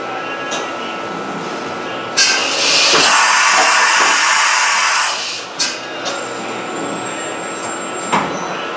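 A CNC machine drills a half-inch hole in a part. Steady loud machining noise runs throughout, swelling into a broad, harsh roar for about three seconds mid-clip, with brief knocks along the way.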